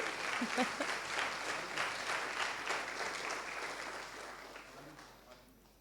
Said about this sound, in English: Please give a round of applause for him as well.